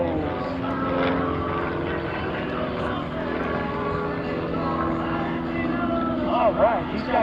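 A propeller airplane doing slow inside snap rolls at a night airshow comedy act gives a constant droning engine roar, with an announcer speaking over it throughout.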